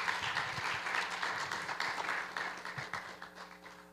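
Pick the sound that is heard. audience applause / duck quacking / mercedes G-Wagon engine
audience applause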